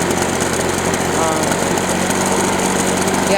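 A Husqvarna 130BT backpack leaf blower engine idles with a steady, even two-stroke drone, close and constant throughout without revving.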